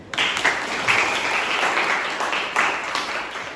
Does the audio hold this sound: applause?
yes